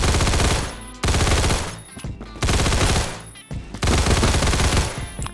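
Automatic rifle fire in the video game Phantom Forces, loud rapid bursts of shots in several long sustained volleys separated by brief pauses.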